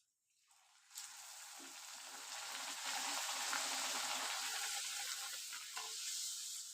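Luchi puris frying in hot oil, a steady bright sizzle that swells in after about a second and holds loud and continuous, with small crackles and stirring noises throughout and no talking.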